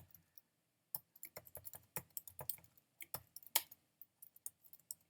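Irregular bursts of computer keyboard typing while an HTML page is being edited, with quick clustered keystrokes and short pauses, close and fairly quiet.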